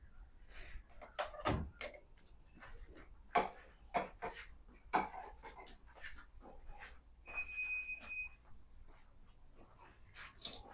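A hotel room door at Seda Manila Bay in Parañaque is unlocked and opened, with clicks, a heavy thump and rustling handling noises close by, a brief electronic beep tone midway, and quiet voices in the background.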